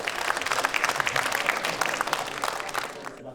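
Dense applause from a large crowd in the South Korean National Assembly, steady clapping that holds for a few seconds before tapering off at the end.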